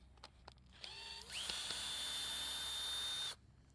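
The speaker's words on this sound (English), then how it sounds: "Let me get my drill." A power drill removing screws whirs briefly, then spins up into a steady high-pitched whine for about two seconds before cutting off, close and loud.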